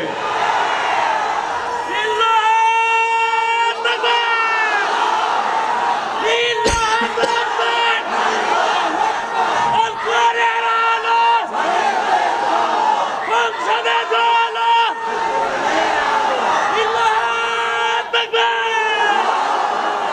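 A huge crowd at an outdoor religious gathering in Pabna district chants the Allahu Akbar slogan in loud, sustained waves of massed voices, rising and falling in repeated rounds.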